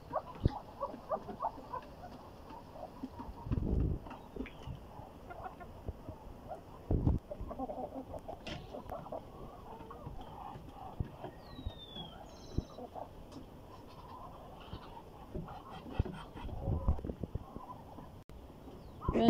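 Hens feeding on a farm give soft, scattered clucks and faint calls against a quiet background, with occasional pecking and rustling knocks nearby.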